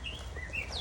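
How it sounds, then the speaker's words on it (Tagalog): Thin, high chirping whistles from a bird singing nearby outdoors during dumpster diving, a few short rising and falling notes over a steady low background rumble. "ang saya ng ibon sa aking likuran."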